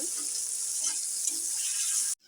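Boiled cabbage leaves frying in oil, a dense steady sizzle with scattered soft knocks of stirring, ending abruptly after about two seconds.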